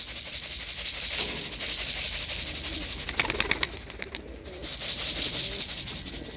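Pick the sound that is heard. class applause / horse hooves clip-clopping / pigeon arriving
pigeon arriving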